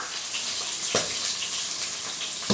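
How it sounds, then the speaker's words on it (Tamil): Tamarind water pours into a pan of sardine curry, a continuous splashing trickle with a brief sharper splash partway through, close and fairly clear. "இப்போ புளி தண்ணி சேர்த்துடலாம்"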